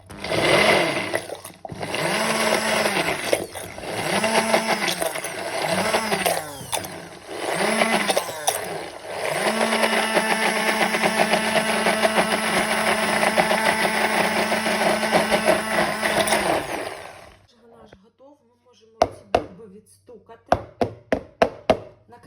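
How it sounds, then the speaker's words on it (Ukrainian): A blender whirs loudly for around seventeen seconds blending mint chocolate ganache, its pitch rising and dipping in pulses, then stops, followed by a few sharp taps. "Зараз будемо пробивати блендером. Пробиваємо блендером."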